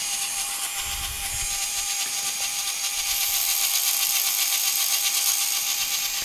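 The small spinning gyro inside a Kyosho Mini-Z Moto racer motorcycle whirs up to speed, a steady high-pitched electric whine that climbs and grows slightly louder, heard close and alone.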